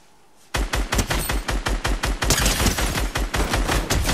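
Rapid automatic gunfire in Fortnite, a loud close burst of evenly spaced shots that starts abruptly after a brief quiet and keeps hammering for several seconds, with no talking.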